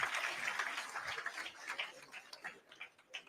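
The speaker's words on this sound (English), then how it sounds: "A hand of applause." Applause from an audience at a formal grand announcement ceremony, a dense clatter of clapping that starts full and gradually thins into scattered claps over a few seconds.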